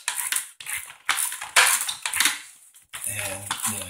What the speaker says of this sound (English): So they say stir for 5-10 minutes.